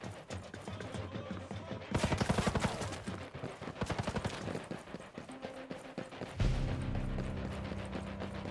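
Rapid gunfire in an online shooter video game, bursts of sharp shots rattling off in quick volleys, with a heavy rumbling layer joining toward the end.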